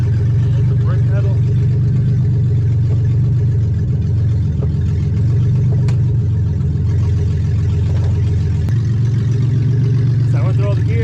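A car engine idles steadily after a radiator replacement, with a deep continuous hum and a couple of light throttle blips, while faint talk comes and goes.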